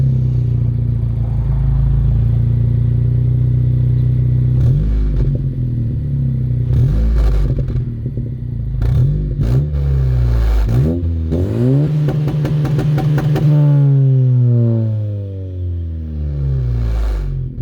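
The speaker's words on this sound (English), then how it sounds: "I am running a Yonaka catback exhaust. Is 3 inches all the way, as well as a PLM front pipe and PLM down pipe." A 10th-generation Honda Civic with a 3-inch Yonaka catback exhaust, PLM front pipe and PLM downpipe idles loudly, then blips through several sharp revs before one long climbing rev and a drop back to a rumbling idle.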